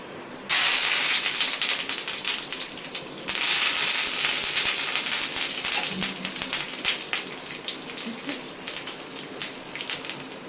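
Small fish hit hot oil for a homemade curry and set off a sudden loud, hissing sizzle that surges again a few seconds later, then crackles steadily and densely up close.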